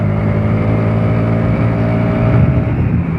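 Motorcycle engine revving hard on a group ride, a loud continuous roar with steady harmonic drone and a slight surge in pitch near the end, no talk over it.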